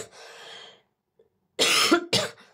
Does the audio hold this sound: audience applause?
no